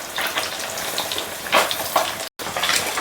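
Onions frying in a pan for a dry fish curry, a steady crackling sizzle with brief stirring bursts, close and clear, with a short silent gap near the end.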